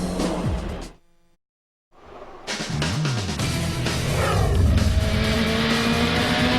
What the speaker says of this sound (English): we do have a car on track right now